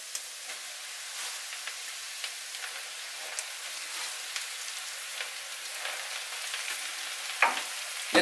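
Spinach sizzles and crackles steadily in a pan with onions that have already been sautéed. A continuous frying hiss is broken by faint stirring clicks and one louder scrape near the end, and no one speaks.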